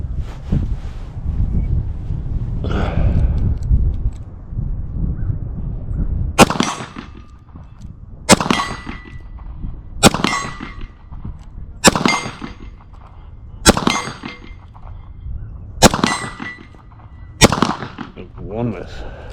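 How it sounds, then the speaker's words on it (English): Seven sharp pistol shots from a Smith and Wesson CSX are fired outdoors at steel targets 50 yards away, spaced about two seconds apart. Each crack has a faint metallic ring after it, with wind noise underneath and some muffled movement before the first shot. "See how this thing shoots at 50."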